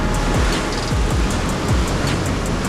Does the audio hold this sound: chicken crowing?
no